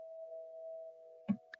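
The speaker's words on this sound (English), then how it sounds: "And Lisa, are they chimes in your background that are going off?" A single sustained tone of wind chimes rings steadily in the background of a community award discussion, fairly faint, with a couple of brief bumps near the end.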